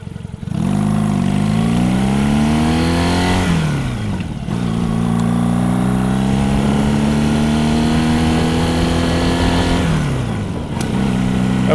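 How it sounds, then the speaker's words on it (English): A motorcycle engine revs and pulls through rising gears while being ridden, with two sweeping climbs broken by brief dips at shifts, loud and close over steady wind and road noise. "I will say this motorcycle does like to be ridden"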